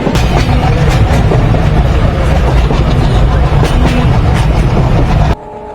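Kapotakkho Express train rumbling along the rails on the Khulna to Rajshahi route, a loud continuous low roar with faint rhythmic clatter, heard from inside a crowded coach before the noise drops off abruptly near the end.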